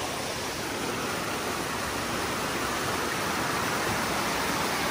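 A creek rushes behind a riverside cabin, giving a loud, constant broadband wash of flowing water that fills the whole stretch without pause or talk.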